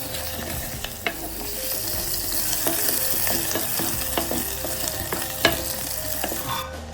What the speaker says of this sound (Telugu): మనము ఆనియన్ లైట్ బ్రౌన్ అయ్యేంత వరకు ఫ్రై చేసుకుందాం